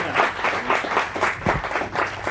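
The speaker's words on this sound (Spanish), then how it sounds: "vamos a darle un aplauso." An audience applauds a speaker before a talk on pattern recognition in medicine, clapping in a steady crowd patter with a slight rhythmic pulse, fairly close and loud.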